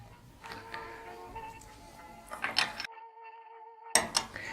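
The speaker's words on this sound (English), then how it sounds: "I'm going to hand tighten first, and then I'll tighten up with our 15mm wrench" A bicycle pedal is tightened onto the crank arm with a 15mm wrench. A few quiet metallic creaks and clicks come in short bursts from close by, with near silence between them.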